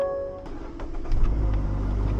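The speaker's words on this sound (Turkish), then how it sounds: "Evet arabamızı çalıştırdık." A car engine turns over and catches, settling into a loud, steady low idle rumble.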